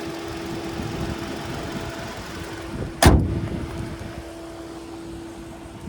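The 2.5-liter naturally aspirated four-cylinder of a 2025 Kia K5 GT Line AWD idles with a steady low drone amid outdoor wind, broken midway by one sharp, loud thump.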